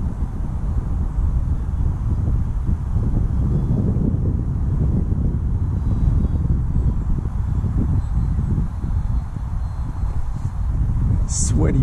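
Strong, fairly steady wind buffets the microphone outdoors during a flight of a SuperEZ model plane, a low roaring rumble that persists loudly throughout with slight gusting swells.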